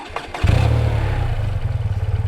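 BMW R12 motorcycle engine, a 2024 neo-retro model, bursts into a loud, close rev that settles into a throbbing, pulsing idle with no talk over it.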